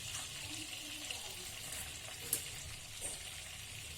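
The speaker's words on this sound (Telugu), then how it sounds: "ఆయిల్ అండ్ బటర్ హీట్ అయిన తర్వాత నేను 1 స్పూన్ జీరా వేస్తున్నాను" A spoonful of cumin seeds frying in heated oil and butter for pav bhaji gives a soft, steady sizzle with a few tiny pops, faint and even throughout.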